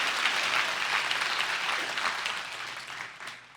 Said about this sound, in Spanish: Dale un fuerte aplauso, Señor, por eso.